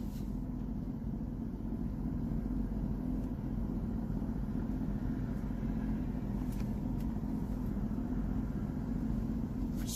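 A parked car idles with its air conditioning running, giving a steady low engine rumble and fan hum heard from inside the cabin, with no one speaking.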